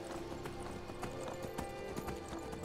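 Horse hooves clip-clop in Skyrim, a brisk, steady rhythm of close, distinct hoofbeats over a low ambient bed, with no speech.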